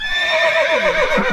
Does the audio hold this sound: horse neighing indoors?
yes